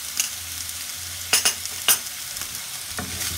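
Spices frying for a Moroccan fish tagine with onions and raisins are stirred in a pan, a steady low sizzle broken by a few sharp scraping strokes of the spoon, close and without talk.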